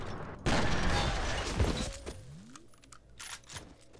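Gunfire in F.E.A.R. comes as a burst of loud close shots with a broad crash, followed by scattered sharper reports and clattering debris as it fades.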